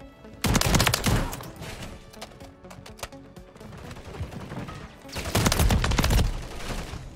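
Heavy automatic gunfire in the Call of Duty video game, with a loud sustained burst of rapid shots at the start, quieter scattered fire through the middle, and a second dense burst near the end.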